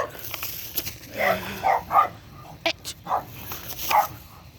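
A dog barks in several short, sharp bursts outdoors on a walk, some yips mixed in, fairly close and loud over light background noise.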